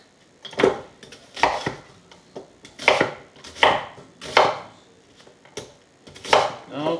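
Knife rough-chopping an onion on a cutting board for sofrito, with about eight steady, evenly spaced chops, each a close, moderately loud thud with a crisp edge.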